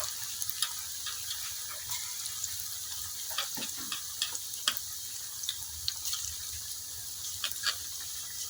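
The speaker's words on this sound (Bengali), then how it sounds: "এখন সবগুলা পেঁয়াজও আমি এইভাবে দিয়ে ভাজি করে নেম।" Onions fry in a pan with a constant soft sizzle, faint crackles and occasional small pops over the steady hiss, with no talking.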